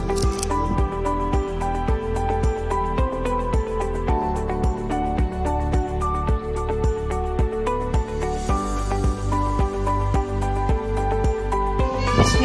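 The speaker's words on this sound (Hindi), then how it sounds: "अब हम काटेंगे धनिया।" Fresh coriander being chopped for potato and aubergine pakoras, heard as a steady run of close, rhythmic knife strokes on a cutting board, loud and continuous throughout without speech.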